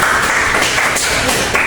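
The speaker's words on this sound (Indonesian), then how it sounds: "Tepuk tangan dulu buat." Audience clapping at an Indonesian lecturer certification teaching session, a steady dense patter of many hands, fairly loud and close, with no talking.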